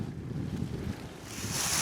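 Wind blows steadily outdoors while setting a bobcat trap, a continuous rushing gust close to the microphone that swells louder toward the end, with no voices.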